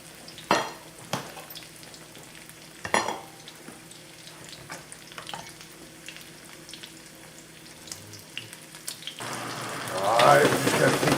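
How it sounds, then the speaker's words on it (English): Shrimp fry in a hot pan while being stirred, with scraping and clattering knocks over a steady sizzle that grows louder and fuller near the end. "Alright, we just got to keep these shrimp turning."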